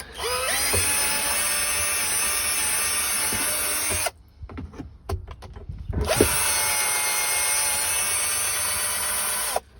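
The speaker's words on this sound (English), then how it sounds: "I'm just going to drill a hole through the body and make my own drain hole" A power drill whines loudly through a car's metal body in two long bursts, separated by a short pause with scraping and clatter.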